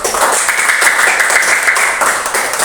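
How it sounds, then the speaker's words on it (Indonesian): A classroom of students applauds a group after its presentation, a steady, loud wash of many hands clapping together for a few seconds, close and continuous. "berikan tepuk tangan"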